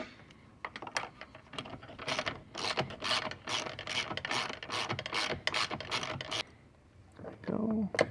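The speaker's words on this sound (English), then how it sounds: "take our 12mm ratchet again" A 12mm ratchet clicks and whirs during a turn signal kit installation on a motorcycle, a dense run of close mechanical ratcheting with brief pauses and a short rattling burst near the end.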